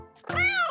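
A single short, clear cat meow, close and fairly loud, with a rising and falling tone, is heard during bath time in the shower.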